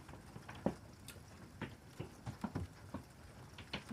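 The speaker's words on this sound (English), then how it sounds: "Hail is really coming down." Large ping-pong-ball-sized hail falls during a thunderstorm, sharp scattered impacts knocking irregularly against hard surfaces, fairly faint and spread out.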